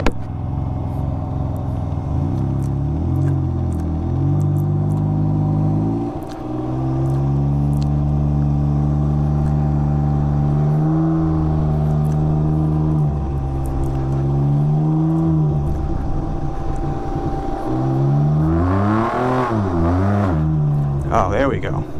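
A Can-Am Ryker three-wheeler's engine pulls hard through repeated rising revs and gear changes, with a brief dip before climbing again and a final sharp surge, while a rider talks over it.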